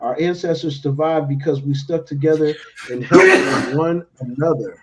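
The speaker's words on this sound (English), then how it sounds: "Never hold your sneezing." A man sneezes loudly and forcefully mid-conversation, a sharp burst cutting through steady male speech, with talking continuing before and after it.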